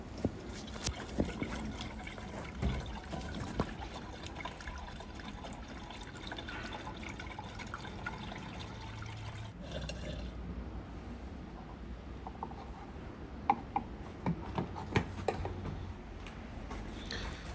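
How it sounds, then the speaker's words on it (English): Coolant poured into the cooling system of a Fiat 500 during a thermostat change, a steady liquid trickle and glugging with occasional clinks, close up and fairly quiet, with no talking. "First we need to fill up coolant."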